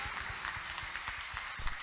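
A church congregation applauding during a worship service, a quiet, steady patter of many hands clapping that lasts under two seconds, heard at a distance.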